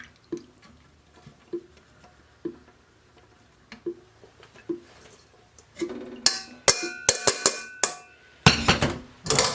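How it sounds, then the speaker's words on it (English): Buttermilk squeezed out of crumbly homemade butter: soft wet squelches and drips, sparse and quiet at first, then a denser, louder run of splattering squishes near the end. "So get all of that buttermilk out"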